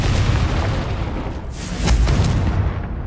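A booming fire-spell explosion in Hogwarts Legacy, two heavy blasts about a second apart, loud and close with a rumbling tail.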